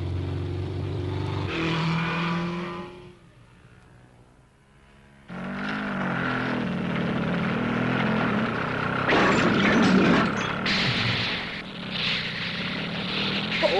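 A propeller aircraft engine in a race, overheating, drones loudly and steadily, drops away to near quiet for a couple of seconds, then returns with a sudden surge and keeps running with rough, uneven bursts.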